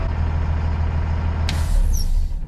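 Short sharp burst of air brake hiss from the park brake being set on an LMTV military truck, cutting in over a steady low engine rumble, followed by a squeaky chirp.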